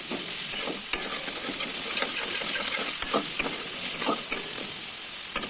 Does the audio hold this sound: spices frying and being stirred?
yes